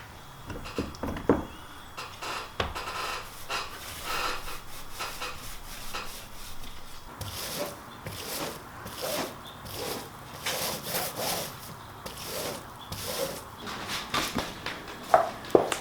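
A roller works epoxy into fiberglass cloth on a teardrop camper build, with the epoxy on one side turning hot and hard. Irregular, quiet rubbing and rasping strokes repeat close by, with no talking.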